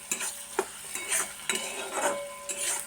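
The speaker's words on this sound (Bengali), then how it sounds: "আগে আমি পেঁয়াজটা একটু লাল করে ভেজে নিই" Onions fry in oil in a pan for a fish-head curry, a constant sizzle broken by regular scraping stirs and light metal clinks every half second or so, close and clear.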